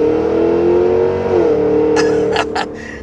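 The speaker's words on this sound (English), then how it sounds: "That's regular mode acceleration. That's the normal, very subdued exhaust." A 2023 Cadillac Escalade V's exhaust in regular mode hums in a steady, subdued tone as the SUV accelerates, smooth and close, followed by a few short rustling bursts at the end.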